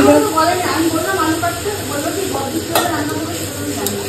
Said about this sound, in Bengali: ভাজা ভাজা মতন হয়ে এসছে, এর মধ্যে দেবো মশলাপাতি